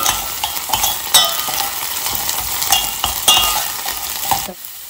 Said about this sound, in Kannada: ಅದಕ್ಕೇನೆ ಒಂಚೂರು ಜಿಂಜರ್ ಗಾರ್ಲಿಕ್ ಪೇಸ್ಟ್ ರೆಡಿಮೇಡ್ ಹಾಕೊತಾ ಇದ್ದೀನಿ. ಚೆನ್ನಾಗಿ ಫ್ರೈ ಮಾಡ್ಕೊಬೇಕು.